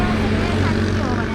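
A tractor engine running close by on a rural hill road near a tea garden at Bhotechour, Sindhupalchowk, giving a loud, steady low drone with a constant throb and no breaks.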